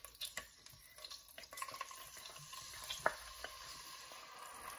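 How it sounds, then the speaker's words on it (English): Ginger and garlic paste fries in hot oil, giving a quiet crackling sizzle with scattered pops and occasional stirring scrapes, faint and steady throughout. "Once the oil heats up, add in 1 teaspoon of ginger paste, 1 teaspoon of garlic paste."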